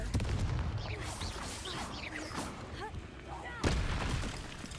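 A Confringo fire blast spell explodes in Hogwarts Legacy, with a loud burst near the end over busy game sounds and chirpy effects, while a voice talks throughout.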